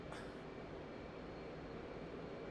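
Steady broadband roar of an F/A-18C jet engine on full afterburner just after a carrier catapult launch in DCS World, loud and continuous with a brief brighter burst at the start, no voices.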